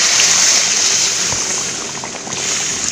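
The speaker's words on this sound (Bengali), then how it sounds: "এবার আমি এর মধ্যে দিয়ে দিলাম একটু পানি ঝোলের জন্য" Water is poured into a pan of fish curry to make gravy, giving a loud, continuous broad hiss and sizzle close by that eases slightly toward the end.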